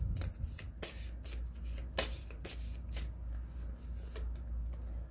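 Playing cards being shuffled and handled during a French-language tarot-style card reading, with repeated soft riffling and snapping bursts at close range, no talking.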